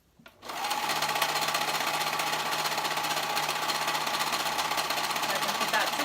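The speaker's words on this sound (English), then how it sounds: "I'll go ahead and sew that up." A sewing machine starts up and runs steadily, stitching fabric for a pair of boys' fly-front pants, with a fast, even mechanical whir close by from start to end.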